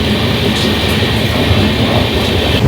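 A Kolkata–Radhikapur Express passenger train rolls past close by, a steady loud rumble of wheels and carriages with faint rhythmic clatter running unbroken throughout, no voices.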